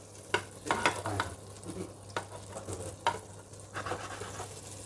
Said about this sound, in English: Gonna saute it.